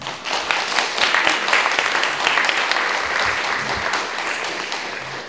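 Sustained applause from a large audience at an award ceremony, steady and dense clapping throughout with no voices over it.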